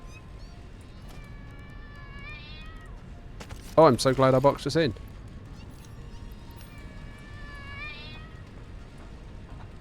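A cat meows in the video game Satisfactory, a short loud burst of several rapid yowls at close range, set between stretches of someone talking over quiet game ambience.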